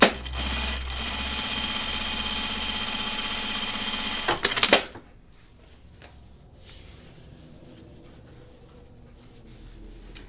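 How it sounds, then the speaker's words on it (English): A sewing machine double stitching the back pockets of a pair of jeans hums at a steady, close whir for about four seconds, then ends in a few clunks and falls to quiet handling noise. "I'm double stitching them."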